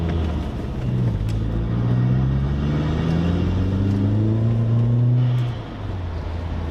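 A turbocharged car with a dump valve rumbles and climbs in pitch as it accelerates hard on a dual carriageway, a steady road drone beneath the rising revs, with no talking.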